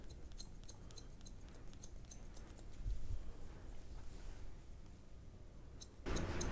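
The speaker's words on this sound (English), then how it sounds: "I like to refine with scissors" Scissors snipping through hair while a barber refines a low fade, a rapid run of light, close metallic snips over a quiet room, followed by a louder rustle near the end.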